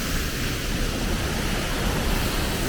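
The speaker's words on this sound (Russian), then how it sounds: "Ну, дождь не заканчивается." Steady rain falls near the La Chorrera waterfall in Colombia, a constant hissing wash that blends with the distant roar of falling water, unchanging and without voices.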